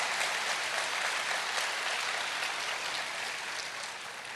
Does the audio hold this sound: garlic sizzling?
no